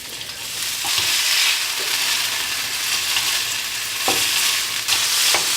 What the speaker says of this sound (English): So I'll just add the sauce directly in and let it cook into the noodles